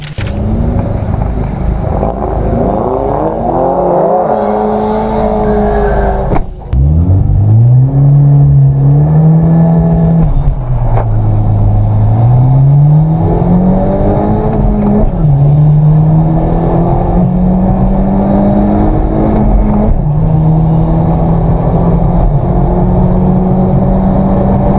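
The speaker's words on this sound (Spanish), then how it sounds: "Este carro es de motor 2300 centímetros cúbicos turbocargado." A turbocharged 2300cc Audi engine, rated at 260 horsepower, revs and accelerates hard, its pitch climbing and dipping through several gear changes, loud and close with no talk over it.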